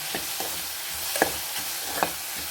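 Onions with a pinch of salt being stirred in a frying pan: a spoon scrapes the pan a few times over a steady soft sizzle, close and fairly quiet, with no talking.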